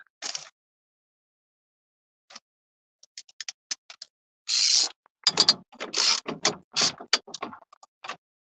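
Socket wrench ratcheting while removing the carburetor from a Predator 2000 generator: scattered quick clicking bursts, then several louder rapid ratchet runs close up, with pauses between.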